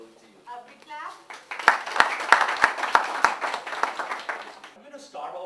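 An audience at a leadership summit claps to welcome a speaker: a few scattered claps build into a steady round of applause that fades out, with voices talking briefly at the start and end.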